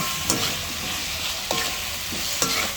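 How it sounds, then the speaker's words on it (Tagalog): Vegetables and tomato being stirred in a hot frying pan, a steady sizzle with a few distinct scraping strokes of the utensil spaced about a second apart, close and clear with no talking. "Ihalo-halo eh, muna natin po para umalo yung kamatis sa mga gulay"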